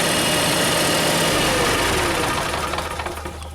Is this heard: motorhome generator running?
yes